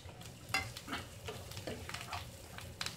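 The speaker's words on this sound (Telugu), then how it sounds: "ఇది కొంచెం మంచిగా వేగాలి" Chopped onion and curry leaves fry in a pan while being stirred, giving a steady close sizzle with scraping stir strokes throughout and no talking.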